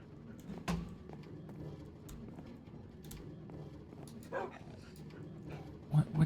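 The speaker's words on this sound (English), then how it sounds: "Other dogs." Several dogs bark and yip in short bursts in a rainy setting, with a sharp bark early on and a pair of louder yelps at the end, under ongoing talk.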